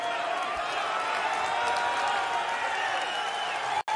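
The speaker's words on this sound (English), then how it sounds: "Crowd getting behind Koha Kokiri" A darts crowd at the Queensland Darts Masters cheers and applauds for Koha Kokiri in a steady, distant roar that holds throughout, with a commentator talking over it.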